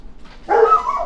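A single dog gives a short bark or yelp partway through, fairly close and fairly loud, set outdoors on a windy night among people smoking.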